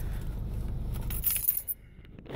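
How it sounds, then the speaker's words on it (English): Keys jangle and clink briefly as a car key goes into the ignition of a 2013 Scion FR-S, close and fairly quiet against low cabin rumble. "I'm gonna put in the key."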